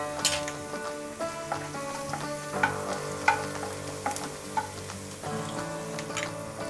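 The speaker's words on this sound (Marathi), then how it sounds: "लसूण आपल्याला थोडंसं तांबूस रंगापर्यंत भाजून घ्यायचे." Crushed garlic cloves and a pinch of asafoetida sizzle in hot oil in a pan, a steady close crackle with frequent spitting pops and occasional spoon stirs, with soft background music underneath.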